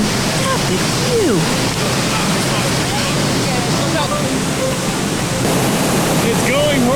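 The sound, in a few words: Yosemite waterfall roaring below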